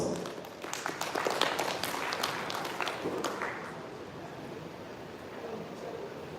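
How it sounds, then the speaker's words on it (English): A warm round of applause from a conference audience, steady and moderately loud at first, then thinning and tapering off toward the end. "leave a nice warm round of applause"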